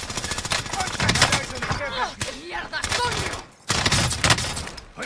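Gunfire in the video game Warzone, dense rapid automatic shots and bursts close by, nearly continuous with one short pause, mixed with game voices and shouting.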